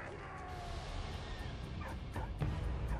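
A dog in the video game Valiant Hearts gives short yips and whimpering barks near the end, over a steady background of in-game ambience.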